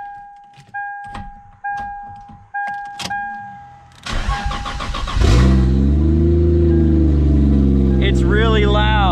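A Lexus IS300 with a CD009 transmission swap and no exhaust fitted: a few dashboard chimes and clicks, then the engine cranks and fires at about four seconds and settles into a loud, raw, droning idle, with a voice briefly at the end.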